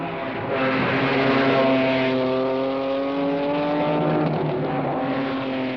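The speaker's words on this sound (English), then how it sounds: "Morton wasn't taking any chances and gunned his Datsun Z car into the lead from the pole position" Datsun Z race car at a 1971 road racing championship in Georgia accelerating hard from the pole, its engine a loud, steady rising drone with strong harmonics, close and alone, fading slightly near the end.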